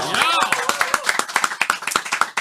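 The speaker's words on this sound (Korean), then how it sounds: "박수 한번 쳐드릴까요?" A studio audience on a Korean talk show claps, with a brief voice at the start. The sharp, fairly regular claps stay close and moderately loud for a couple of seconds.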